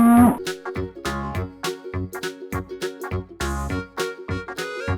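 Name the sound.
cow mooing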